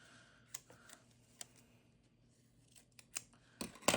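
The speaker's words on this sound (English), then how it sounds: "I'm going to have to cut up a box, honestly, because it just doesn't need to be that big." Scissors snip through a cardboard box, producing a series of sharp, quiet crunching cuts at irregular intervals, closer and louder toward the end, against a faint quiet background.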